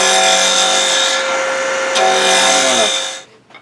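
Spindle gouge working a small round of wood spinning on a lathe, a steady close scraping rasp with a whirring hum that holds for about three seconds before it cuts off.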